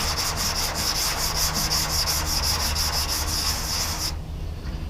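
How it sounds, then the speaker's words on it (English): A sanding block rasps back and forth over high build primer on a car body panel in steady, rhythmic strokes, close and loud, then stops abruptly near the end. "But when you're sanding,"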